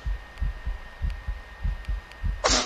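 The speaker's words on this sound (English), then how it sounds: "My heartbeat is beating." A heartbeat in a multiplayer horror video game thumps in a steady, quick double-beat rhythm, low and close, ending in a sudden burst of louder noise.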